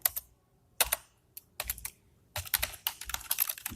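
Bursts of keystrokes on a computer keyboard while code is typed, a quick clattering rhythm broken by short pauses, close and fairly quiet with no talk.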